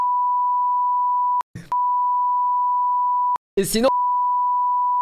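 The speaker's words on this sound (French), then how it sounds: "Oh, ça fait beaucoup de bip quand même" Loud censor beeps cover speech from a Power Slap broadcast, a steady pure tone that runs long, broken twice by short clipped bits of voice, with a French commentator speaking briefly.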